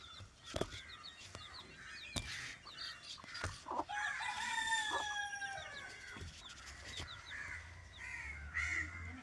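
A native rooster crows loudly with long, rising calls, alongside sharp cawing crows and scattered clucks from other birds outdoors.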